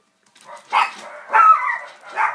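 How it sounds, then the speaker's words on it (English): Dogs bark in a few separate bursts, sharp and fairly close, with short yips between them and near silence around them. "And the dogs are going off."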